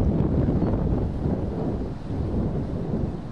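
Steady, loud wind buffets the microphone on an outdoor golf course, a continuous low rumbling roar with no pauses and no speech.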